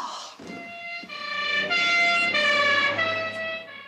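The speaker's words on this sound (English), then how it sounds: "a police car passes the house." A police car siren wails steadily as the car passes a house, loud and sustained with a rising and falling tone and no talk over it.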